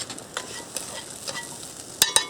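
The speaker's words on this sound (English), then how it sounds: "I'm going to add the garlic now" Garlic dropped into a hot frying pan, a close sizzle with a few soft stirring scrapes and two sharp clinks at the end, without talk.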